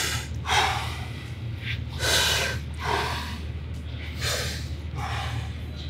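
Slow, deep breathing during a leg stretch, loud close inhales and exhales in an even rhythm of about four or five breaths, with a steady low hum underneath.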